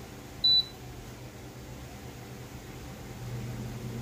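Air fryer timer gives a single short electronic beep early on, then a steady low fan hum from the appliance while cooking marinated pork belly.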